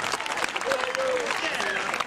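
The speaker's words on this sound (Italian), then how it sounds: "Un applauso." Brief applause from a live concert crowd for an a cappella group in Ragusa Ibla, clapping under a speaking voice and crowd murmur.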